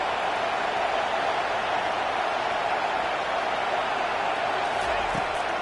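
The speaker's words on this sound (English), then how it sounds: "Third down as the crowd gets behind this defense." Steady stadium crowd roar in a college football video game (Georgia vs Clemson) rising behind the defense on third down, a dense, constant wash of cheering that holds at even loudness throughout.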